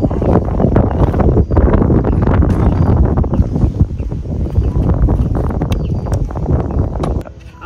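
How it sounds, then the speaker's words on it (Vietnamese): Strong wind gusting across Tuyền Lâm lake, a loud, steady roar of buffeting noise against the microphone that persists throughout with only brief dips. "tại thấy gió lên rồi đó"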